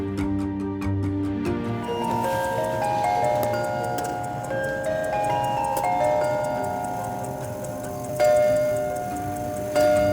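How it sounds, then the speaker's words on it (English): A decorative chiming clock from an artist's new collection rings out a melodic sequence of bell tones over steady ticking, clear and close, with a few brighter strikes toward the end. "This is a beautiful piece, as you can hear. It's a chiming clock."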